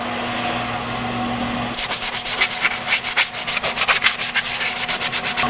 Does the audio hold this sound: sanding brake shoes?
yes